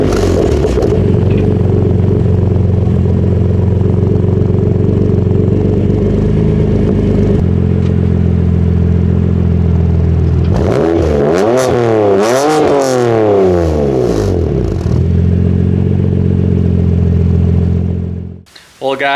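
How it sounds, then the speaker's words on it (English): A BMW engine with an aggressive burble tune from BM3 cold starts and idles loudly up close, then revs in several rising and falling sweeps before settling back to idle and cutting off. "let's go ahead and get it cold started"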